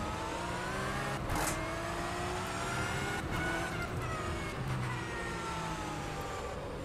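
A Porsche Supercup race car engine in rFactor 2 at the Hungary track drones steadily at high revs, with shifting tones and brief bursts, loud and continuous without talk.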